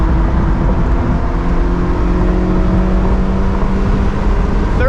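Open-top car, a 2009 NC MX-5 Miata or 2022 Subaru BRZ, lapping a race track in third gear, with a loud continuous engine drone and wind roar and a faint brief tire squeal near the end.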